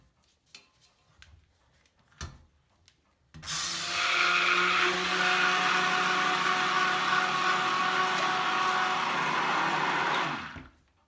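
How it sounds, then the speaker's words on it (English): A stick blender mixing coconut and olive oil soap whirs steadily for about seven seconds after a few soft knocks and clatters, loud and close, then cuts off. "Now I'm going to just blend this until my mixture starts to thicken."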